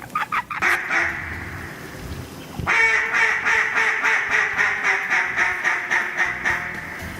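Mallard ducks quack loudly and repeatedly during a late-season duck hunt in Arkansas, a few calls at first, then a dense, continuous chorus of rhythmic quacking close by.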